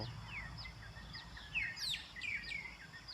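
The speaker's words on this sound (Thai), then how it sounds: "เสียงนก" Birds chirp and tweet in short, bright calls scattered throughout, over a low steady outdoor rumble, in the morning at a resort near the mountains in Thong Pha Phum, Kanchanaburi, Thailand.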